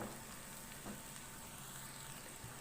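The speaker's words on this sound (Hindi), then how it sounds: "1 से 2 मिनट लहसुन अदरक को प्याज के साथ अच्छी तरह से फ्राई कर लेंगे" Garlic and ginger fry with onion in a pan, giving a soft, continuous sizzle that stays low and even throughout, with no voices.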